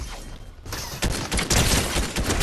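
Rapid gunfire bursts from the Fortnite video game, a dense crackling fusillade that grows louder over a couple of seconds, with no talk.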